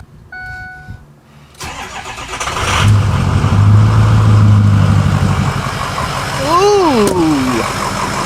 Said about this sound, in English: Get it started off with a Powerstoke cold start.